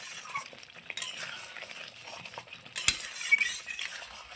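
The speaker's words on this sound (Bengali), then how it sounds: "এবার সব কিছু দিয়ে ভালো করে আবারও মিশিয়ে নিচ্ছি।" Taro and potato curry (gathi kochu alu dom) is stirred in a pan with a utensil, giving soft scraping and gentle sizzling close by, with a few sharp clinks against the pan.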